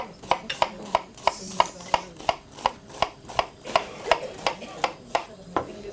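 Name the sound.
finely chopping onions with a knife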